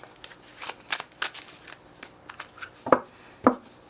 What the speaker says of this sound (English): let's pull 2 more cards